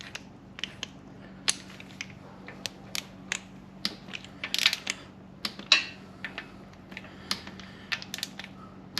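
A torque wrench tightens engine bolts on an LS engine, giving a series of sharp, close ratcheting clicks in irregular bursts over a faint background hum.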